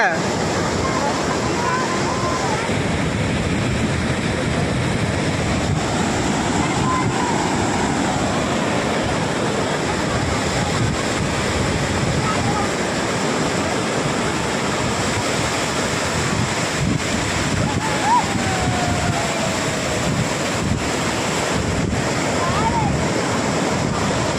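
Big sea waves crash and roll onto Bhate beach in a continuous loud roar of surf, with wind buffeting the microphone throughout and voices calling out now and then over the water.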